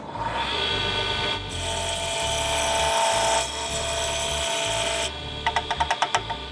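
A wood blank for a seam ripper handle is shaped into a cylinder as it spins, giving a steady, loud rasping and scraping that shifts in tone, ending in a quick series of sharp, rhythmic taps.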